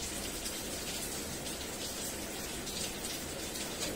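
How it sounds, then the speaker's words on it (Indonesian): Steady rain falls outside in a continuous, even hiss with no breaks, soft and fairly distant, and no voices are heard. "Hujan terus"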